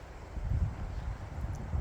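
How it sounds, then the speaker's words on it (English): Wind gusts buffet the microphone at a campsite, a low rumbling whoosh that swells and eases unevenly, with soft rustling and no voices. "Yeah, it's getting windy."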